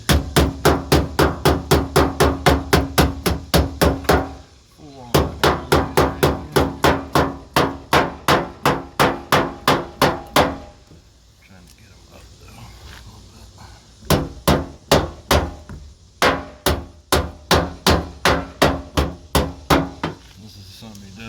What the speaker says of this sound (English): I'm gonna find a hammer. Give her a few whacks that way too.